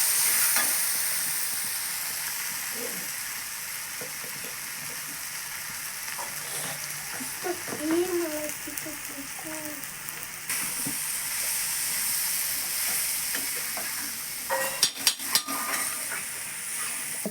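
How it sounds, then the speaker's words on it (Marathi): A steady, close frying hiss fills a village kitchen as dal and onions cook in a pan, with occasional scrapes and metallic clinks of a spoon stirring, and a brief voice in the background. "आता हे हलवून घ्यायचं"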